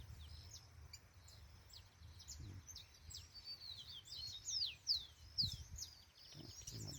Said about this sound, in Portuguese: Aqui é muito passarinho.